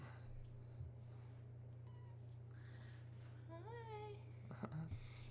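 A cat meows indoors, a few short faint calls followed by a longer rising meow, heard close over a steady low hum with soft background voices.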